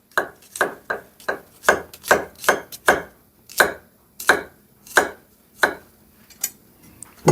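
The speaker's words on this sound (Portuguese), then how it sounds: "E agora vamos começar aqui cortando o alho fininho" A knife finely chopping garlic on a cutting board, a run of about eighteen crisp, evenly spaced knocks that slow slightly toward the end, close and clear with no talk.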